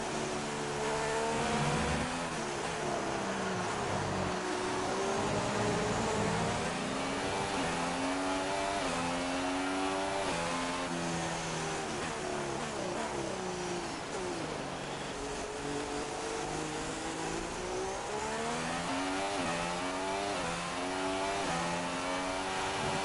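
Formula One race car engine in the F1 2016 game, driven on a wet track, droning loudly and continuously with rising and falling revs through gear changes and cornering, no talk over it.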